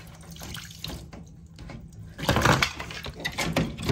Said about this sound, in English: So I'm gonna drain the rest of this water out.